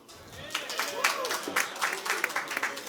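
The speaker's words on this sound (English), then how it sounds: "So welcome him with the applause." At a design summit keynote dinner, the audience welcomes a guest with applause that builds from quiet into a moderate, uneven patter of clapping, while a voice talks over it.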